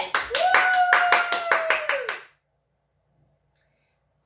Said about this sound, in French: on applaudit pour Lucaël